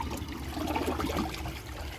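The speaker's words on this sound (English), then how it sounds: "Let's add some water to the bowl" Water trickles and splashes briefly into a Crane toilet bowl, a soft close pour lasting a moment at low volume.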